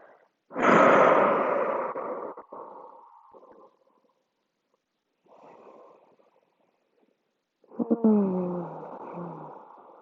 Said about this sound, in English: Couple more deep breaths.